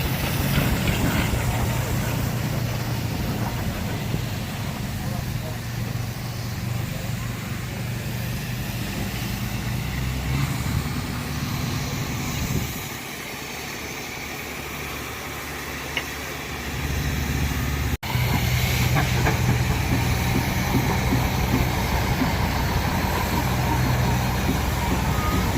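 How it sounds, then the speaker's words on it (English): Steam traction engines at a threshers show tractor pull in Dalton, Minnesota, a loud continuous low engine rumble and churning across the whole stretch, dipping briefly midway, outdoors with background noise. "you don't get to see this every day, to see steam engines like this pull"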